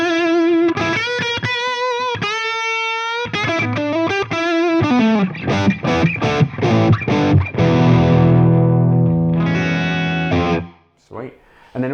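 An electric guitar on the bridge pickup, played through a DrZ Maz MKII amp, rings out loud, distorted chords and riffs with sustained notes, then cuts to near silence at the end.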